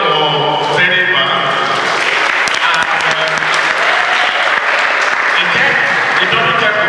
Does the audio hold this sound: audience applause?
yes